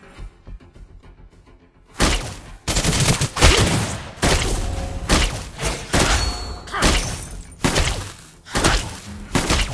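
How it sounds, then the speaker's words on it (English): Rapid gunfire from the hero Clint in the mobile game Mobile Legends, loud repeated volleys of shots and impacts in bursts after a quieter start, with game sound effects throughout. "Try to outrun my bullets."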